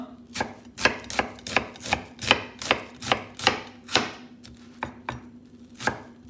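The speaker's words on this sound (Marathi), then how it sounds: "पियाव कातोता" An onion is chopped finely on a board for a chickpea salad, about a dozen crisp knife strikes in a fairly even rhythm, close and clear with a low hum beneath.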